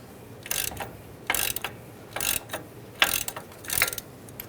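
A ratchet with a 21mm socket loosening a nut on a 2011-2018 Ram 1500 front end, heard as five or six close bursts of rapid clicking separated by short pauses.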